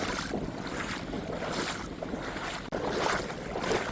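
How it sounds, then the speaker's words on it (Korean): Waves stirred up by a boat passing at sea wash and surge near the shore under gusty wind buffeting the microphone, a continuous rushing noise with rolling swells and one brief dropout. "배 지나갔어"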